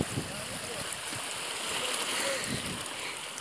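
Sea water splashes and washes steadily against something nearby, a broad constant rushing wash with small slaps throughout.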